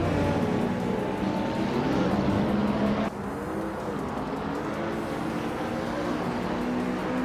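A 2015 Koenigsegg Agera RS tearing away from the start line in a racing game at Autodrome Most, its engine roaring loud and steady, pitch climbing through gear changes with a sudden drop midway as it shifts.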